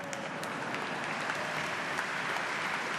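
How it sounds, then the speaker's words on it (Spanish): Congregation at a Mass with the Pope applauding, a dense, even patter of clapping from many hands that carries on steadily throughout, with no voices over it. "El aplauso lo iniciaron las religiosas"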